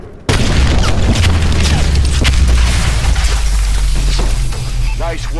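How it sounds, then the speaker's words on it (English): An explosion effect from a DNA bomb kill in a video game opens with a sudden loud boom, then a sustained heavy rumble with scattered crackling bursts, and voices talk over it. "we got a fantastic, absolutely awesome effect from a DNA bomb kill"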